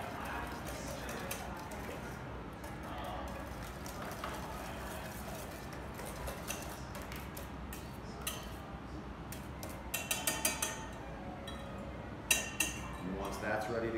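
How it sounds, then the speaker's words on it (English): A whisk clinks and taps rapidly against a bowl while flan custard with vanilla extract is beaten, the metallic ticking growing louder toward the end, with a person talking throughout. "And just whisk that till it's nice and smooth"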